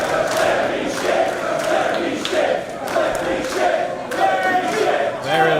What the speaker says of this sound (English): There are some competing chants here.